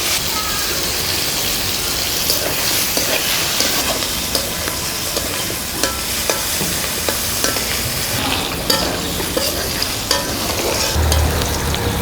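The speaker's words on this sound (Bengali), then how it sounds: "এখন শুটকি মাছের জন্য পেঁয়াজ, কাঁচামরিচ, রসুন, শুকনা মরিচ ভেজে নিব।" Onion, green chili, garlic and dried chili frying in oil in a Bengali village kitchen, a loud, dense, continuous sizzle like heavy rain, with occasional small pops and stirring clinks throughout.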